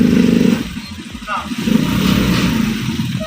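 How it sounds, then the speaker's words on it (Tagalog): A motorcycle engine on a road in the Philippines rumbles close behind as it passes, steady and fairly loud, under excited talk and exclamations from people in a vehicle. "May motor sa likod ah."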